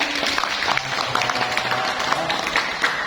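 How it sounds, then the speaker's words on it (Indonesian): A room of listeners at an Islamic youth lecture claps for a good question, moderately loud continuous clapping with faint crowd noise underneath and no clear speech. "Tepuk tangan dulu."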